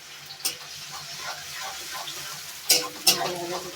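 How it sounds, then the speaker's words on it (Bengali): Garlic sizzles softly in a pan while a utensil stirs it, with a few sharp scraping clacks near the start and again toward the end, close by and with no talking. "রসুনটা ভালো করে ভাজা করছি"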